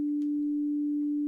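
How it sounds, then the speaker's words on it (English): A pure, steady sine-wave oscillator tone from a Bitwig Grid synthesizer hums on unbroken at a single low-mid pitch, clean and constant throughout with only faint background noises. "Let's take this sine wave, for example"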